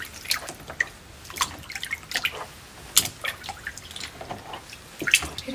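Water with ginger and green tea drips and trickles in a small basin, with scattered splashy drops and brief pours close up, with no talk.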